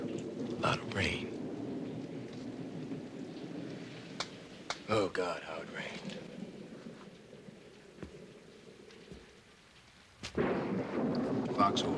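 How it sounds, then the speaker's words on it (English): Heavy rain pours steadily with rolling, booming thunder in a wartime audio drama set in late June, a sudden loud crash near the end; a voice speaks briefly over the storm. "A lot of rain."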